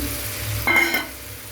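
Pointed gourd and potato pieces go into a hot pan with shrimp, a steady sizzle swelling into a brief louder burst as they land, then settling back.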